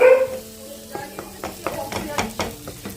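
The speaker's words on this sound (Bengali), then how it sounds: "পেঁয়াজ রসুন দিয়ে ভাজলাম, টমেটো বেশি করে দিলাম।" Onion, garlic and tomato frying in a pan with scraping stirs and light clinks over a soft sizzle, each stroke short and close.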